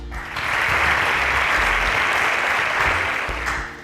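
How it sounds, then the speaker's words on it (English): An audience bursts into a loud, sustained round of clapping that holds steady for several seconds before easing off, with no speech over it. "Wow, a round of applause."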